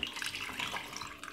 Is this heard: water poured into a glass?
yes